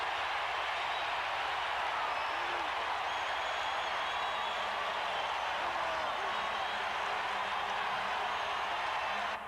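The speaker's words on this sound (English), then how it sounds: "Down he goes, and listen to this crowd as Mecklenburg, the veteran, has the sack." Stadium crowd at a 1994 Raiders at Broncos NFL game roars steadily after a quarterback sack, a dense, sustained wash of cheering that stays loud throughout.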